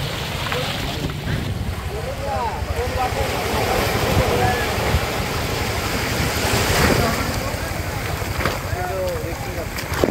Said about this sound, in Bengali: সমুদ্রের ঢেউয়ের শব্দ আর বাতাসের সুর এতটা আরামদায়ক